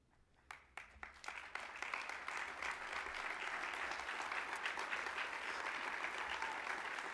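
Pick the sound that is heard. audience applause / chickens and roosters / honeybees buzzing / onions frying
audience applause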